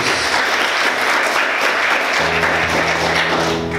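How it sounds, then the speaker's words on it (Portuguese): A church congregation claps steadily in sustained applause, loud and continuous, with a faint tone entering partway through. "Você pode aplaudir Jesus nessa noite?"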